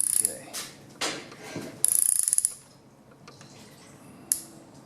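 A torque wrench ratchets on the bolts of an LQ4 6.0 LS engine during assembly, giving several short bursts of clicking with quiet pauses between them, close to the microphone.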